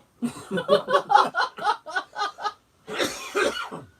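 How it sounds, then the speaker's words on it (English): A rapid string of short coughs, eight or so close together, followed by a longer rough cough burst, loud and near. "Oh, with the cough."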